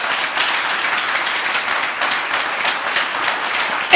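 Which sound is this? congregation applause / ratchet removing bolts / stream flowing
congregation applause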